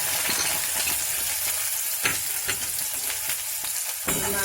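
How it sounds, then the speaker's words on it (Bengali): Chopped onions hit hot oil with cumin in a pan and fry with a loud, steady sizzle, broken by sharp scraping taps as a spoon stirs them every half second or so. "এবারে আমি পেঁয়াজ কুচিগুলো দিয়ে ভাজার জন্য"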